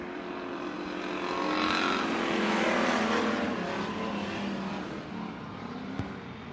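Race cars at Bakersfield Speedway, a dirt or short oval track, roar steadily as a pack runs down the back straightaway, engine noise swelling to a peak midway and then easing, with no talk over it.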